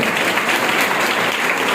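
Loud, dense applause from a crowd greeting a guest at a school-level math, science and environment exhibition closing ceremony, a continuous close wash of many hands clapping.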